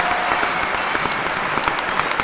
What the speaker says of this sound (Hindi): दोनों हाथ आकाश में खोल के तालियों का महोत्सव कर देना